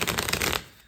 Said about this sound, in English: I feel that I need to shuffle here.